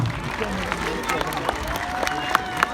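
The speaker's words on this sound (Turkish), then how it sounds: "Alkışlarınızla." An audience claps at a school ceremony for a children's national holiday, with scattered applause and crowd murmur in a hall and a voice heard briefly.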